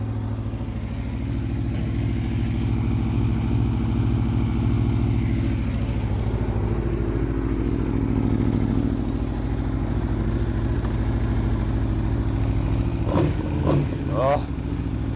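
An Aprilia RSV4 1100 Factory sportbike runs steadily near the listener, a loud, even engine drone throughout, with a few sharp mechanical clicks and revs near the end and no clear speech.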